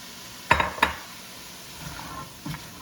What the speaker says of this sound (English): To this we are going to add the diced carrots.